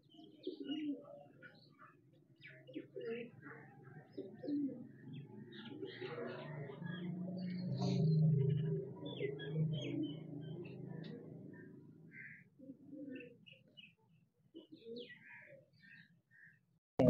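Rampuri pigeons coo softly while millet is scattered for them, a low murmuring coo running steadily through the scene with scattered chirps and tweets above, moderately near and fairly quiet.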